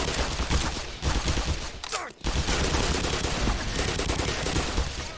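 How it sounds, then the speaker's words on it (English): An automated turret in the Black Mesa video game fires rapid continuous bursts, loud and dense, with a single brief break near the middle before the rattling resumes. "Oh, that's a turret in there."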